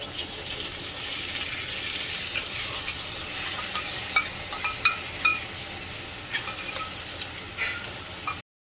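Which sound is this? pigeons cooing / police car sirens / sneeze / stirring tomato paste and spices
stirring tomato paste and spices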